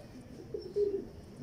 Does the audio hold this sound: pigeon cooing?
yes